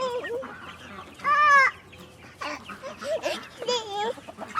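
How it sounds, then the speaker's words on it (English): A silkie hen on a small farm clucks and squawks in uneven bursts, with one louder, longer call near the middle, while people talk quietly nearby. "This is one of our silkies."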